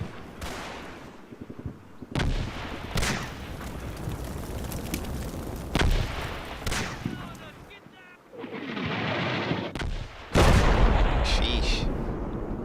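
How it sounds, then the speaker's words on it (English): Bursts of gunfire and explosions from a Combat Mission: Battle for Normandy wartime battle, with MG42 machine gun fire among them, loud and continuous across the clip with sharp cracks and heavy booms, under a speaking voice. "Where's that MG42 fire coming from?"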